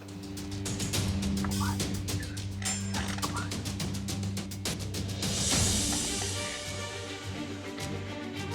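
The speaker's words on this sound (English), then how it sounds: "What is it? Turkeys." Turkeys gobble loudly and repeatedly, their rattling calls overlapping in a busy flock, with a steady low hum underneath.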